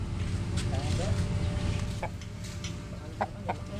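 A Shamo chicken clucks softly a few times, close by, under ongoing conversation.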